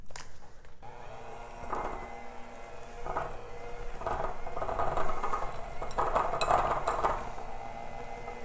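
Cookie dough fudge ingredients are stirred together in a bowl, making repeated soft scraping and thudding strokes with occasional light clinks of a utensil, in a steady, moderately quiet rhythm with no talk.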